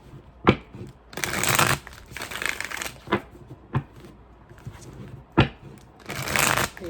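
Oracle cards are shuffled by hand in several rustling, riffling bursts, each opened by a crisp snap or tap, close to the microphone with quiet pauses between.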